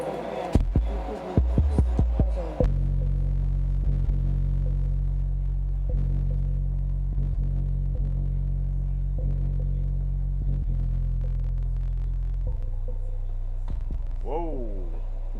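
Audiopipe TXX-BDC4 quad stack of 10-inch car subwoofers on Sundown SFB-600D and SMD-AM amplifiers, playing deep, loud, sustained low bass tones that drop lower and then sweep away, after a few opening thumps.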